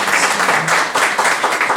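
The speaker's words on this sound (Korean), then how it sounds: "축하의 박수 한번 부탁드리겠습니다" Steady, dense applause fills a Korean theological graduate school ceremony conferring an honorary doctorate, many hands clapping continuously and evenly for the whole stretch with no voices over it.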